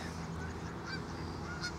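Geese honking close by, a dense overlapping chorus of harsh calls continuing steadily with no gaps.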